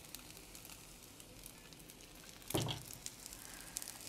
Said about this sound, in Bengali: তো আমি উল্টে পাল্টে এটাকে ভেজে নিবে